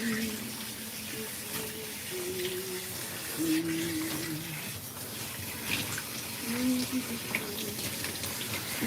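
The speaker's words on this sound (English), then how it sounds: "let's rinse that out." Water from a tap streams steadily while something is rinsed out, a continuous hiss and splash up close, with faint voices and tonal sounds occasionally audible underneath.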